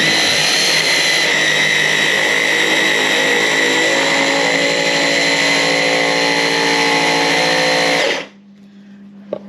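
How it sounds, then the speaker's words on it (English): A blender roars loudly and steadily for several seconds, a harsh high-pitched whirring, then cuts off abruptly into near silence. "it's just a matter of blitzing it up. It might be a bit noisy, this."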